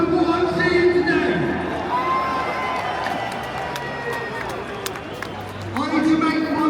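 A large, lively crowd at a political rally cheers and shouts, a dense wash of voices swelling loudest at the start and again near the end, with whoops and calls rising above the roar.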